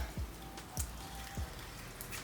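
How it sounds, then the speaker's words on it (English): Steady rain falls outdoors while someone works on an s197 Ford Mustang, a dense even wash with a few louder drops and low thumps standing out; no talking. "It started raining"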